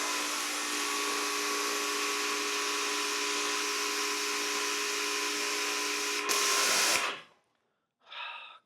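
An Adams Pro 2.0 pressure washer with a 4.0 rinse nozzle sprays with a steady, loud hiss over a constant motor hum, then cuts off abruptly, followed by a short burst of spray.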